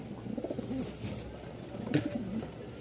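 Lahori Sirazi pigeons on a farm coo softly in low murmuring phrases over a steady background hum, one call rising more clearly near the end.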